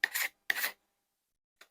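Old varnish is scraped or sanded off a vintage rip saw in two short, close rasping strokes with a pause between them, then a third stroke begins at the very end.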